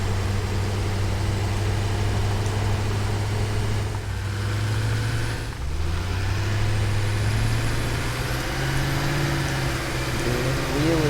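A vehicle in the video game Satisfactory drives along a road with a steady, low engine drone that dips briefly and then resumes, its pitch wavering slightly.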